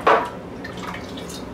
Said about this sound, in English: I'm just going to continue to pour.